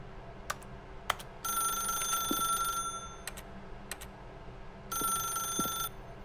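A telephone rings in The Stanley Parable video game, two bright electronic bursts of trilling rings with a pause between them, alongside sparse clicks and a low background hum.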